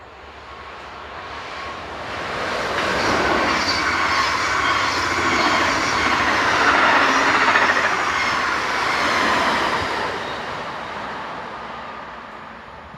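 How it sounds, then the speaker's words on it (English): A Belgian Intercity passenger train passes close by, pushed from the rear by locomotive 1811, its broad roar of wheels and rail noise swelling and fading with faint clickety-clack and no talk. "Running in the opposite direction is the 1508 from Jean-Saint-Péter to Genk Intercity service, powered at the rear by locomotive number 1811"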